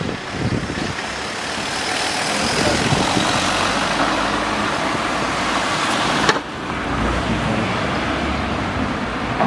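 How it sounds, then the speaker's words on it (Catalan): Steady traffic of cars and heavier vehicles rolling past on a street beside a basilica in Sangüesa, a continuous loud roadway rumble and whoosh with one brief sharp knock partway through. "Els sorolls que se senten són cotxes que no paren de passar."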